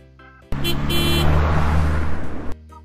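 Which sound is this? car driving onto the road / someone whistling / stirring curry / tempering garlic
car driving onto the road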